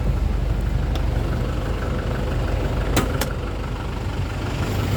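A 2000 Isuzu Panther Kapsul diesel engine idles steadily with a constant low rumble, plus a couple of brief clicks and no talking.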